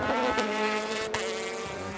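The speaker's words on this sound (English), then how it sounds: "Listen, engine there in full song." A race car engine at full revs after the flag at a BOSS Ireland race holds a loud, sustained high-pitched howl with steady harmonics and a brief dip partway through.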